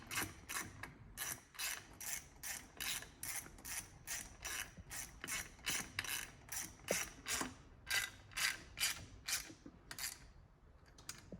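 A ratchet wrench clicks through quick, regular bursts of about twenty strokes while bolts are tightened during a Janus 250 Stage 3 and 4 installation, close-up and alone.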